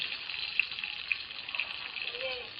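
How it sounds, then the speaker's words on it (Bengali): Nigella seeds and panch phoron sizzle in hot oil at the start of a pumpkin and fish curry, a steady close frying hiss with a few small pops. "একটু কালো জিরে দিয়ে দিচ্ছি, একটু পাঁচফোড়নও দিয়ে দিলাম"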